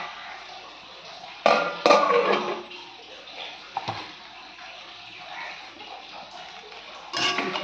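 A metal lid set onto a cooking pot in a village kitchen makes a few clanking knocks and scrapes, close and fairly loud, followed by quieter rattles and another clatter near the end.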